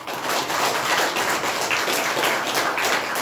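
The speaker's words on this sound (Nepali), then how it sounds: "सम्पूर्ण बाबा आमाहरू एकचोटि आफ्नै लागि ताली पिट्नु होला" A hall full of elderly parents clapping for themselves at a spiritual gathering, brisk and steady applause with many hands heard throughout, moderately loud and without speech.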